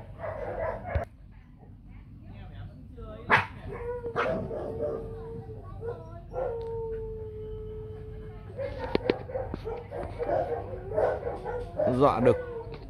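A dog barks a few times at a distance, short yelping calls scattered through steady background noise while people talk nearby.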